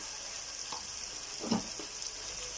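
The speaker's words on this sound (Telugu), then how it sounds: "ఇక్కడ మసాలా ఫ్రై అవుతుంది కదండి" Masala with red chili frying in a pan for aloo biryani: a soft, steady sizzle and hiss throughout, with a couple of faint stirring knocks and one brief louder scrape in the middle, no voices.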